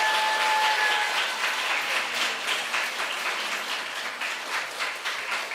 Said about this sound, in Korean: 은혜로운 희망 나눔을 해주신 홍태성 희동께 다시 한번 큰 박수 부탁드립니다.